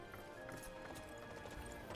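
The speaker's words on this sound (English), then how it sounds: "I summoned that loyal horse." Faint, rapid hoofbeats of a horse at a gallop in Dynasty Warriors 9, a quick continuous clatter over a dense background hum.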